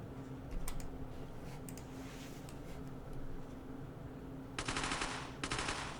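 Video game gunfire crackles in short rapid bursts, quiet and distant under a steady background hum, with a couple of sharper automatic volleys near the end.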